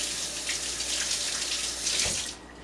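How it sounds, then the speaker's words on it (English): Tap water runs steadily into a kitchen sink as hands are rinsed while baking oatmeal snowball cookies, a close continuous hiss that cuts off just before the end. "now I'm going to rinse my hands real quick here."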